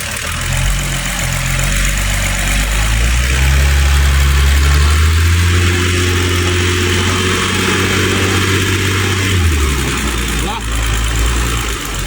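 A Land Rover engine revs while in gear with the brake held, a loud, sustained drone that climbs in pitch midway and then drops back, with voices talking over it.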